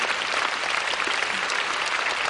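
A church congregation at a Sea Sunday memorial service claps in dense, steady applause, loud and close, sustained without break and with no voices over it.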